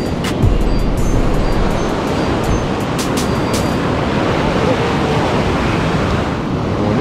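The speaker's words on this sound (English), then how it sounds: "don't underestimate the power of these waves and this current" Strong ocean surf breaks continuously on a beach during surf fishing, a loud, dense wash of crashing water mixed with gusty wind buffeting the microphone.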